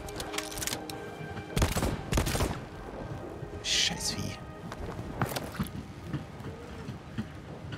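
Bursts of gunfire and explosions in the video game Voidtrain crack over a busy soundtrack, with a voice talking between shots.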